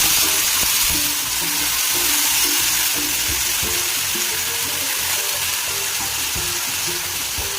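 Green beans and garlic fry in a hot pan with a loud, steady sizzle, and stirring clatters through it close by.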